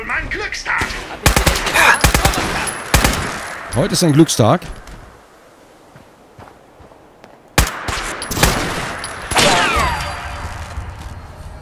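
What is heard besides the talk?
gunfire in the video game Fallout 4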